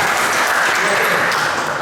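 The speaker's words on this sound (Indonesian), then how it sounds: "Tepuk tangan buat Mas Adit sudah bertanya" A classroom audience claps for a student who has just asked a question during a presentation lesson, producing a loud, dense, continuous applause that fills the whole moment.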